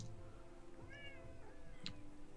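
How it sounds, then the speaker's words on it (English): A loud house cat named Ziggy lets out a single drawn-out meow in the middle of the clip, close and clear over a low background hum. "Loudest cat."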